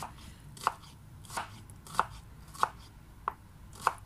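Onions being chopped with a knife on a cutting board for an ampalaya (bitter gourd) dish, six crisp, evenly spaced knife strikes about every two-thirds of a second, close and alone with no talk.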